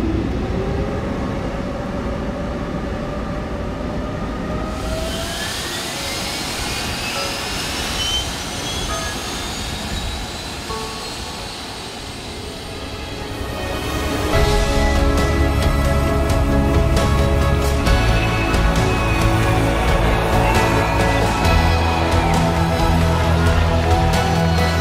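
An Embraer E2 jet airliner on runway 15: a loud, continuous engine roar with rising whining tones that swells into a heavier, fuller rumble partway through.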